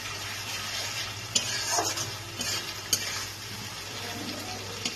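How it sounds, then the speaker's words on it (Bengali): Spice masala for a chanda fish jhal curry sautéing in a pan: a steady, close sizzle runs throughout, with a few sharp scrapes and knocks as the spatula stirs it. "ভালো করে আমি কষিয়ে নিচ্ছি এটাকে"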